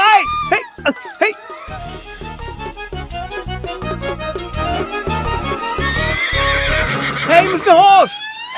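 A cartoon horse in an animated series whinnies loudly in shrill, wavering bursts at the start and again near the end, with rhythmic clattering and other noise in between.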